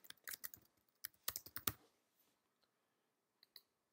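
Several bursts of quick computer keyboard keystrokes, close and fairly quiet, with a dense flurry early on, then a pause, then a few isolated key taps near the end.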